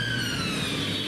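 A brief siren wail sounds from some distance, its tone sliding over a steady wash of city noise.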